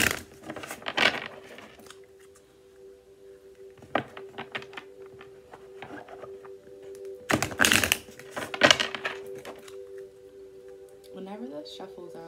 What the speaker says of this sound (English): Let's get a few good shuffles in.